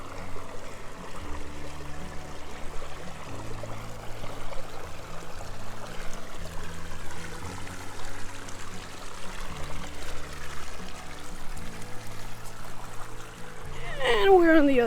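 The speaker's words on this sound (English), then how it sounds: "Oh yeah, it is a river crossing, creek crossing." Water swishes and trickles as a hiker in waterproof boots wades a shallow creek in Rice Canyon, Santa Clarita, California, a continuous rushing flow with splashy footsteps that grow louder toward the end.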